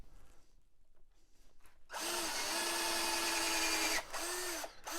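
A power drill with a long bit whines steadily as it bores into scrap wood in small steps, a loud grinding run that briefly dips and picks up again, no talking.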